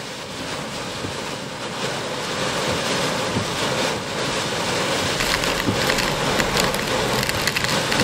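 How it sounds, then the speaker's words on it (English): Loud, roaring wind gusts from a severe thunderstorm buffet continuously, swelling stronger over time with rattling and rushing noise throughout. "you're gonna have strong wind gusts like this"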